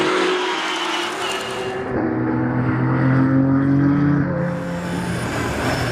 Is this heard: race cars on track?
yes